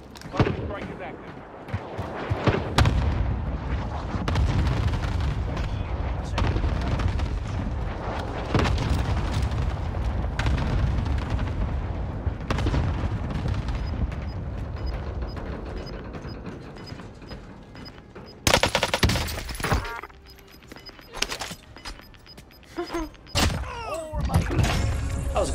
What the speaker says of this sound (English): Bomb strike is active.